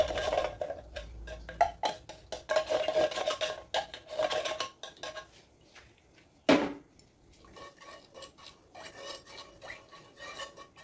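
A spoon stirs maja blanca batter of pumpkin and condensed milk in a bowl, scraping and clinking steadily up close, with one sharper knock partway through.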